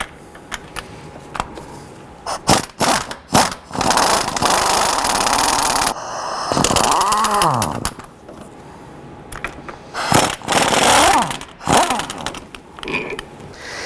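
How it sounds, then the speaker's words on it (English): Wrench and metal tool sounds while the bolt and stud are removed from the front passenger-side engine mount of a 2006–2011 Honda Civic, with irregular ratcheting bursts, clinks and scrapes up close amid pauses, with no talking. "Next, remove this bolt and this stud and bolt right here"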